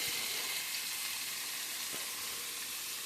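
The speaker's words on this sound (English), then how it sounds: "we will hold it from the side and sear it this way" Pot roast sears in a hot pan with a steady, close sizzle and bright hiss that holds throughout, with a few faint clicks and no talking.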